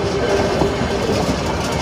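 The Ooty toy train rolls along the rails with a loud, close, continuous rumble and rattling of wagons, a dense mechanical roar with no talk.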